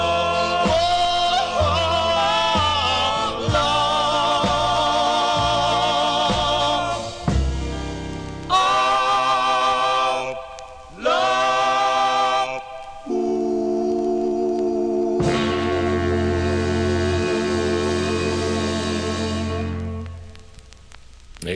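A 1959 doo-wop record plays from a vinyl 45 with sustained vocal harmonies over backing instruments, broken by short pauses and phrase changes, ending on a fading held chord.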